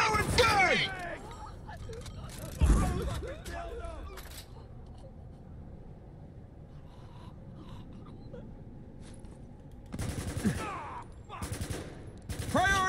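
Gunfire rings out in the video game Spec Ops: The Line during a firefight on Chapter 5, The Edge. Sharp bursts hit at the start, around three seconds in, and again near the end, with shouting voices between them.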